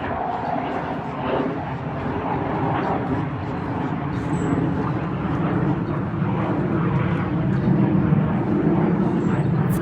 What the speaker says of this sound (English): Oh, it's a very loud plane.